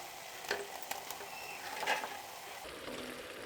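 Country chicken added to biryani masala in a pan, with faint frying crackle and a few brief stirring scrapes and clinks, quiet and close.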